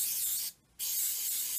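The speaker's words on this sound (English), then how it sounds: "and you just want to lightly spray it" Aleene's tacky spray adhesive sprayed lightly from an aerosol can in two hissing bursts separated by a short pause, close and fairly soft, with no talking.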